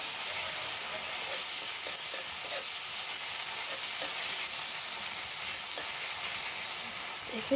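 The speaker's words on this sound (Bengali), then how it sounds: "এবার এতে হলুদ গুঁড়োটা দিয়ে দেব, কষিয়ে নেব" Spices and turmeric powder sizzling and frying in a small pan in a mini kitchen, with a steady hiss and occasional stirring scrapes throughout, close and continuous, no talking.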